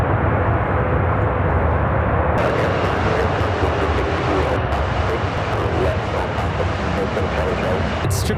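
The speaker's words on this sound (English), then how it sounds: "787-9 Dreamliner" A 787-9 Dreamliner arriving from Paris at Chicago O'Hare gives a loud, continuous jet engine roar, with a harsher, crackling wind-blown texture after the first couple of seconds and voices partly buried under it.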